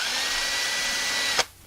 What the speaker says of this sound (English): You're going to drill your pilot hole in the bottom.